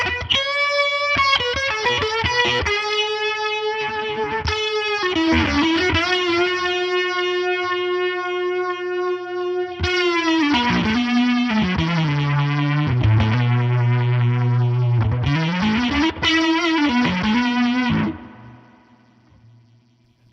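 An electric guitar runs through a Boss RT-2 Rotary Ensemble pedal with reverb, sustained distorted notes and bends swirling with rotary modulation and echo, loud and continuous before fading out at the end.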